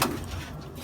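A female pigeon coos close by, a short low burst that fades into a soft, steady murmur.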